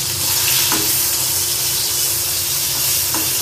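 A piece of fish sizzling in hot oil in a pan, a dense continuous hiss with a couple of faint clicks, close and alone with no speech.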